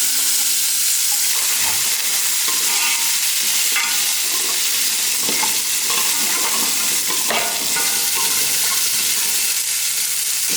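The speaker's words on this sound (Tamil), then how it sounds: "போட்டு எல்லாத்தையும் நல்லா வதக்கிடலாம்." Shallots, garlic and ginger sauté in hot oil for a mutton gravy, a steady close sizzle with scraping and stirring strokes of a spoon against the pan throughout.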